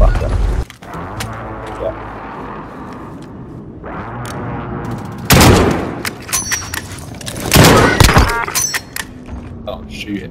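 Video game gunfire rattles in bursts: sharp shots and short volleys, some close and loud, others farther off, over a busy mechanical background with people talking throughout.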